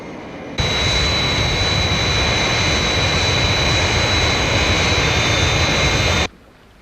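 The Fireflash aircraft from Thunderbirds takes off with a loud, sustained jet roar and a high whine running over it, cutting in abruptly and dropping away just as suddenly.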